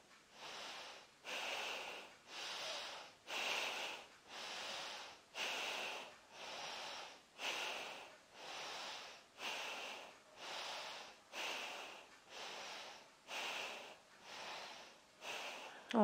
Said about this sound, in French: On va encore faire une inspire, une expire.